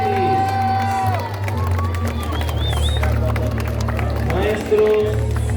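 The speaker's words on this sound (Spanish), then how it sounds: "Fuerte el aplauso para los integrantes del CETIS." Crowd at a nighttime Day of the Dead inaugural parade in Zapotlanejo, Jalisco, applauding and cheering student and teacher participants, steady crowd noise and clapping with music and chatter throughout.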